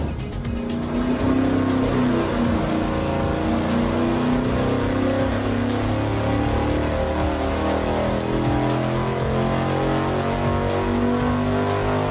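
Dyno-mounted V8 engine running a 268/278-duration camshaft with 10 degrees of intake-exhaust split, droning loud and steady under sustained load with a rising pitch, no talk over it.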